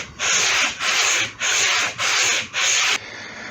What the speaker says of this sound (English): I sanded it right down to 600 grit, which is fairly fine